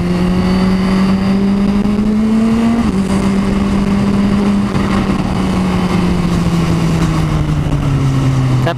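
Kawasaki H2 motorcycle engine held at a high, loud, steady drone, pitch rising slightly then easing and falling, close and continuous with no talk over it.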